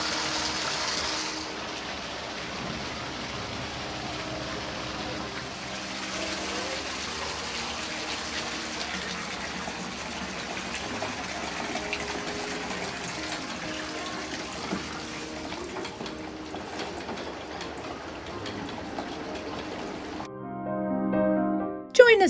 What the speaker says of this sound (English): Water coming in the wall there.